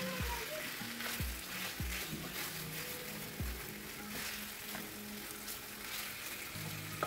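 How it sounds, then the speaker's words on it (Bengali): Chicken pieces fry over medium heat in a pan after ginger-garlic paste, giving a continuous dense sizzle with a few low knocks and clunks of a utensil against the pan. "আদা রসুনটা কিছুক্ষণ ভাজার পর চিকেনটা এখন একটু সময় নিয়ে ভাজব"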